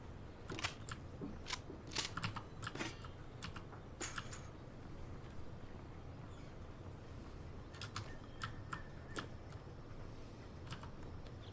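Keys clack on a keyboard in quick, irregular bursts of soft clicks, near but fairly quiet, with pauses between the flurries and no voices.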